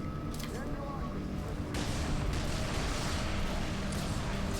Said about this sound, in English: That grenade did not go far at all